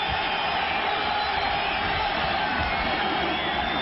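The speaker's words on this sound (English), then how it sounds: "Well, the crowd is roaring now." A packed football stadium crowd at a college bowl game roars in a steady, dense wash of noise that holds without a break.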